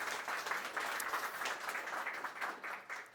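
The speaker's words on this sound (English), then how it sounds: "So maybe let's give a huge round of applause." Audience clapping for a team at a gathering, a soft, somewhat distant round of applause with slight swells and dips, fading a little toward the end.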